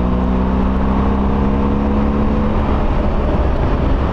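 A BMW R 1250 GSA motorcycle accelerates to overtake on the road, its engine droning steadily and loudly throughout amid constant wind and road noise, with no voices.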